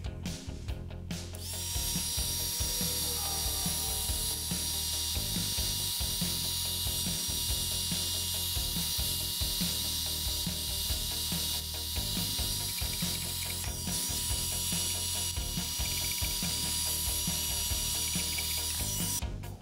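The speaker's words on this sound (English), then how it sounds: "a heat gun and a scraper, I was finally able to get the finish off." A scraper works the finish off an electric guitar body, producing a steady, dense run of close rasping and clicking strokes that continues without pause.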